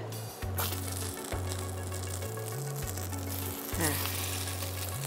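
Pieces of food fry in a pan, giving a soft continuous sizzle behind a droning steady background tone. Someone speaks briefly.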